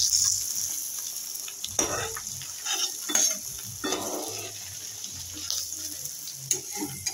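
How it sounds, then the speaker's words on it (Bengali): Eggs fry in hot oil in a pan, a low, steady sizzle close by, broken by occasional scraping and stirring sounds with no talk. "এগুলো ভেজে তুলে রাখছি"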